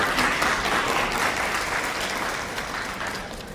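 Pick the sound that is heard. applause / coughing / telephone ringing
applause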